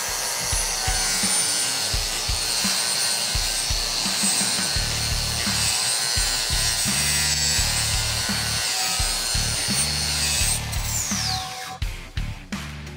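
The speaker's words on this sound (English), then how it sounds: "up next is a regular grinder with a flap disc" A high-pitched angle grinder with a flap disc whines steadily against metal, removing welding slag, for over ten seconds, with rough scraping texture, then winds down near the end.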